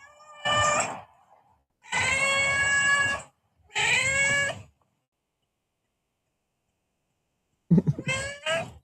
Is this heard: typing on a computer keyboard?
no